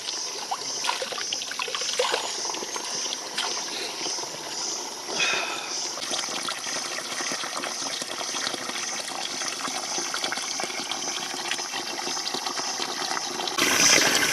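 Water rushes steadily along a village irrigation canal in Anjoot village in the Uttarkashi hills, a constant broadband gush and trickle that stays loud and unbroken throughout.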